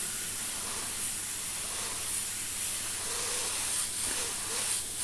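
An airbrush sprays paint in a steady, soft hiss that runs continuously throughout, fairly quiet with slight fluctuations as the strokes are made.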